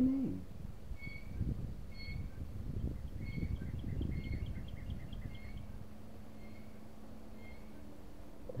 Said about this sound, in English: That's an unusual bird.